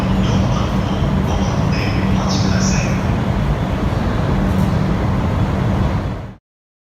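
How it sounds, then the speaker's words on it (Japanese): A Shonan-Shinjuku Line train bound for Ofuna approaches the station with a loud, continuous rolling rumble and rail noise that carries steadily for several seconds before cutting off abruptly. "この電車は湘南新宿ライン横須賀線直通大船行きです。"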